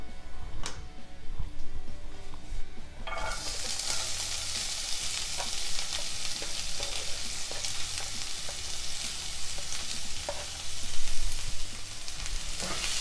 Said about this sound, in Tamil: இப்போ இதெல்லாம் நல்லா பொரிஞ்சதும் நம்ம நறுக்கி வச்சுருக்க வெங்காயத்தை சேர்த்துடலாம்